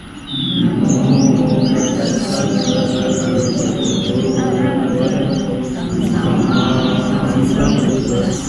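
Birds sing outdoors, with a scatter of bright chirps and short calls repeating over a steady low rumbling background throughout.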